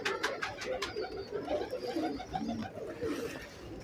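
A prized breeder pigeon coos softly and repeatedly in a loft, low rounded calls recurring through the clip alongside faint background chatter and shuffling.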